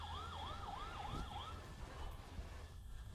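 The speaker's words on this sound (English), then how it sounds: "Could it be a car alarm? Maybe from a pickup." A car alarm gives a warbling electronic tone that swoops repeatedly up and down for about a second and a half, then cuts off, leaving a steady low rumble of road and engine noise.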